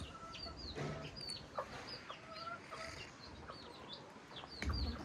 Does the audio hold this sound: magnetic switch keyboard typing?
no